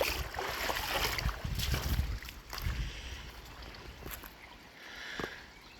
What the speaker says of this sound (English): Two different creeks intersecting here.